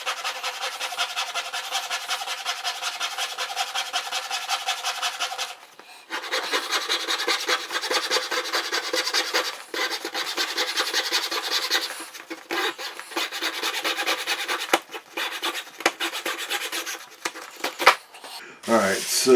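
A large hand saw cutting through a small part, close rhythmic rasping strokes in steady back-and-forth bursts with brief pauses, finishing with a few faster, irregular strokes.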